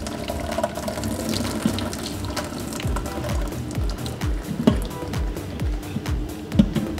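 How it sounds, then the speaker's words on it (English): Water sloshes and gushes as it is dumped from a cooking pot held partly shut with a lid to keep devil fish inside, a steady near pouring with splashy bursts, no talk. "First thing you're gonna do is dump out the water, but I'm gonna use a lid so that the fish gets out."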